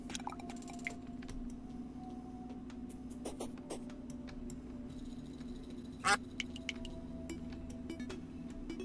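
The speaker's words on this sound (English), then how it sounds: "Where the hell are those ducks? They're so loud." Ducks quacking: short, faint nasal calls come in scattered bursts over a quiet background with a steady low hum, and one burst near the end is louder.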